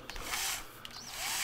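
A power drill spins a pen stuck in its chuck to re-roll duct tape, a brief close whirring burst of just over a second with a slight rise in pitch near the end.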